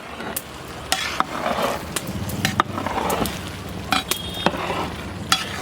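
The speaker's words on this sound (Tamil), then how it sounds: "அப்படியே பாலை மேலாப்பில் ஊற்றிக்கிறலாம் இதோட டேஸ்ட்டு அட்டகாசமாக இருக்கும் நல்லா கலந்து விட்டுக்கலாம்" Beef biryani being stirred in a pot after milk is added, with repeated scraping and clattering strokes of a spoon over a soft bubbling sizzle, close and fairly loud, no talking.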